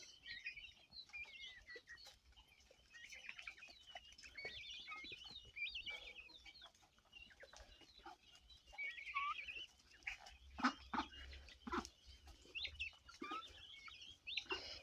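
Ducks, guinea fowl and chickens feeding on barley scattered in a farmyard, giving soft clucks and chirps with scattered pecking and shuffling, fairly faint and steady throughout with no talk.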